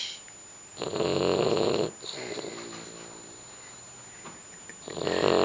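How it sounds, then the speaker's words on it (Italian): Someone snores in two deep, rasping breaths: a long loud one, a quiet pause, then another beginning at the end. Each is close and clear with no talking. "voglio registrare lo che russa"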